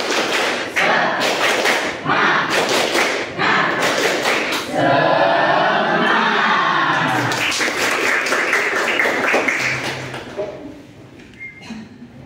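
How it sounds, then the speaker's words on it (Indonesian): A classroom of students performs a rhythmic spirit clap: sharp, close, patterned claps and thumps in bursts, a stretch of mixed clapping and chanting voices in the middle, then more claps before it fades out. "Tepuk semangat."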